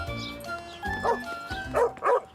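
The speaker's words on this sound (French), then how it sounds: "Le chien avait l'air d'être en colère." A cartoon dog barks angrily in a French-language children's story, several sharp yapping barks and short whimpering yips in quick succession, close and fairly loud with no talking over them.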